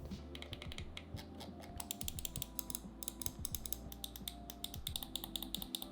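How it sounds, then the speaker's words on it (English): A rubberized gaming mouse scroll wheel with a stiff click is rolled, giving rapid, close, ratchet-like clicking in quick bursts with no talking. "A scroll wheel that's rubberized, delivers a stiff click, and also delivers battery status by flashing red."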